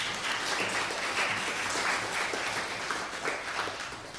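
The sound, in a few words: church congregation applauding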